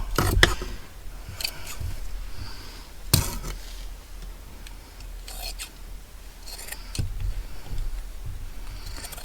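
Scissors snip through chenille fabric to remove the collar from worn baby clothing, several quiet crisp cuts with soft rustling in between, close up and alone.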